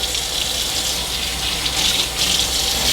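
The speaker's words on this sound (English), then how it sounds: "Cold water. Stopper." A bathroom or kitchen sink filling from the tap with cold water, a steady close gush of running water that holds evenly throughout with no voices.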